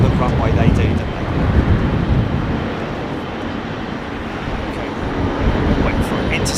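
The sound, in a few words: Airbus A380 aircraft at Heathrow runway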